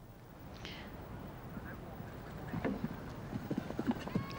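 Horse hooves striking turf at the Burghley horse trials, a run of quick, uneven thuds growing louder in the second half over steady outdoor ambience and a faint commentary voice.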